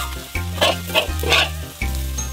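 Soy sauce hits a hot frying pan with garlic and green and red chilies and sizzles loudly and close in short surging bursts over a steady crackling hiss.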